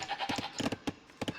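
Sheep in Age of Empires II bleat in a quick series of short calls, several overlapping bleats in close succession, clear and near.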